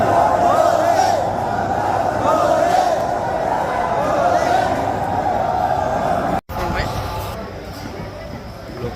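A large, dense crowd fills a temple during the Monday morning mangal aarti, a loud continuous roar of voices and shouts with a brief cutout partway through.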